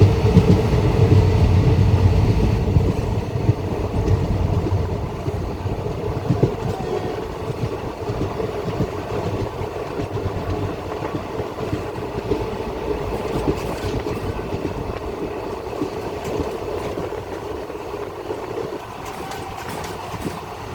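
The Chemmozhi Express runs on rails through the Thanjavur countryside, a continuous loud rumble and rattle of wheels with rhythmic clickety-clack and occasional faint squeals, steady throughout and easing slightly toward the end, with no voices.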